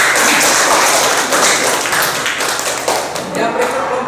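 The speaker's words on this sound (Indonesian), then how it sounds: "Mari kita berikan aplaus sekali lagi." Applause from a group at a class presentation session, a dense patter of many hands clapping continuously at close range and gradually thinning toward the end.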